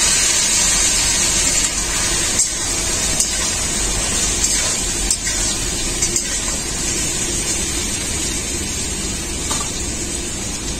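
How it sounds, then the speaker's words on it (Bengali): Marinated taro pieces sizzle in hot mustard oil in a kadai, a steady close-up hiss and crackle that holds for the whole stretch with small pops. "ম্যারিনেট করা কচুটা ভেজে নেব।"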